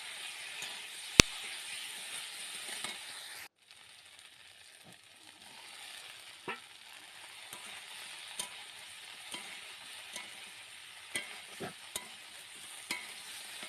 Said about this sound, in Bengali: সয়াবিন দিয়েও কিছুক্ষণ মশলার সাথে কষিয়ে নেব।